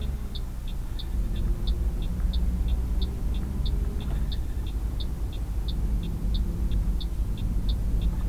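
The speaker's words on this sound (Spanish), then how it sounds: "Voy a tratar de no hablar mucho amigos para que puedan este, apreciar más el sonido del motor que mi voz" Invictus truck engine idling and running in Euro Truck Simulator 2, a continuous loud low rumble, with a steady ticking indicator clicking evenly above it throughout, no talking.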